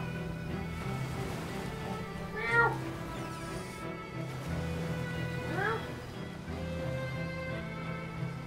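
A cat meows twice in Divinity: Original Sin, each call rising and falling clearly over a steady game music bed, with soft rain-like ambience underneath.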